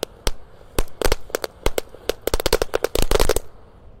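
Firecrackers set off inside a hole in the ground, a rapid irregular series of sharp, loud, close bangs that come in uneven bursts and grow denser toward the end before stopping.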